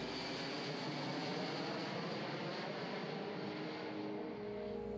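A Boeing 747 SOFIA airplane in flight gives a steady, loud broadband engine and airflow roar with a faint high whine, constant throughout and heard alone.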